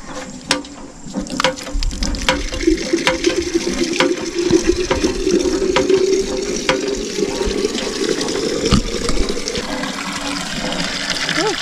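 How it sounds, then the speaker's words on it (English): A village borehole in Uganda pumps water into a container, giving a close, gushing and splashing fill with irregular knocks and clunks throughout. "I hope the water is getting in."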